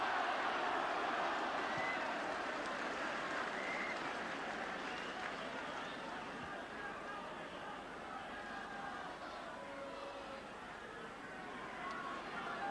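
A large crowd roars steadily at a 1979 John Player Trophy rugby league final between Warrington and Widnes, a broad, sustained, slightly distant wash of cheering that eases gently over time.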